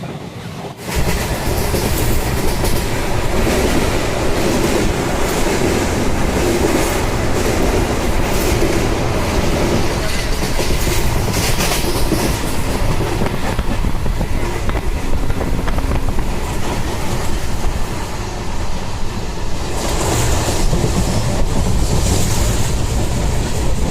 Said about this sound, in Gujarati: આપણી ટ્રેન આગળ જઈ રહી છે જમ્મુ કાશ્મીર તરફ